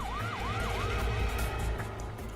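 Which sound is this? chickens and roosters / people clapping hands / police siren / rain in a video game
police siren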